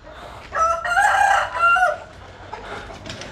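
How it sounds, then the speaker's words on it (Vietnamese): Several chickens crow and cluck together at close range, a loud rooster call rising over steady clucking before fading back to quieter fowl sounds. "Những con gà khác nó nhìn vô nó sợ, nó không có dám lại mổ nữa."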